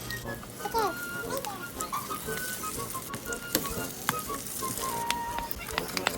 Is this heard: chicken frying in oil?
yes